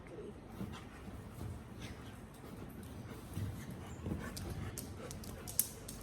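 A dog pants and breathes loudly close by in an indoor room, a rapid rhythmic huffing with a few faint whimpery sounds and one sharp click near the end.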